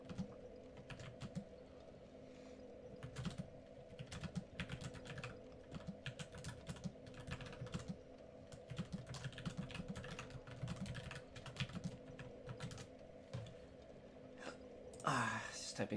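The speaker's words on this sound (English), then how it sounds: "Just typing a message real quick." Rapid clicking on a computer keyboard as a message is typed, quiet and close, in irregular bursts over a low hum, with a short vocal sound near the end.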